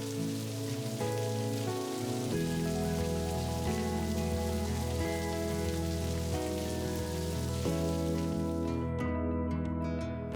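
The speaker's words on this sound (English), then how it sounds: "no trip to the coast would be complete without a healthy dose of rain" Spring rain falls steadily on Canada's West Coast, a soft, even patter that continues without a break and fades out at the end.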